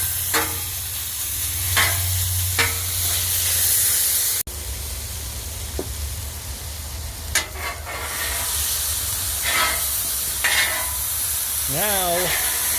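Chicken stir-fry sizzles loudly on a Blackstone hibachi griddle as a little teriyaki sauce is added, a continuous hiss broken by spatula scrapes and clinks, with a brief pause partway through.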